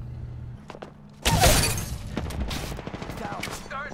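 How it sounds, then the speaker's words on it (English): Gunfire in the Apex Legends battle royale shooter during a ranked solo match, a sharp loud burst of shots followed by scattered impacts and clatter, with a voice speaking faintly underneath. "Darn, shots fired and they're hitting me."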